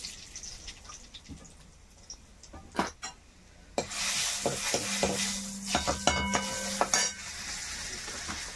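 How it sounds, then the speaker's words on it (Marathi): Cooked pumpkin is added to a hot pan with cumin, mustard seeds and turmeric, then stirred and sautéed, producing a steady close sizzle with repeated scraping spoon strokes against the pan. "आणि केलेला भोपळा आहे ना ते ह्याच्यात टाकायचा, शिजवून घेतलेला. चांगला परतून घ्यायचा."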